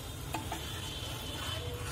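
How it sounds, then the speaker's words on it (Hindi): A spoon stirs kadhi in a pan over a high gas flame, giving a few soft scrapes and clicks over a faint, steady sizzle. "और इसको रेगुलर चलाएंगे"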